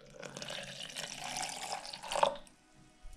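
Liquid is poured into a container indoors, a short, moderately loud splashing stream that rises, ends with a brief gurgle and then trails into quiet.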